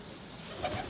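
A pigeon gives a soft, low coo, brief and fairly faint, against a light background hum.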